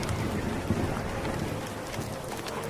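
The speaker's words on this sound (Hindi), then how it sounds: "तभी तेज तूफान आता है" A strong storm roars with steady heavy rain and low rumbling thunder, a dense continuous wash of noise close by and no voices.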